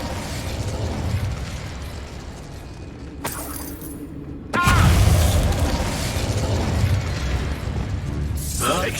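An Expulso spell explosion in Hogwarts Legacy lands as a sudden loud boom partway through, with a sharp crack a little earlier and a rumbling, busy tail after it, while a voice talks.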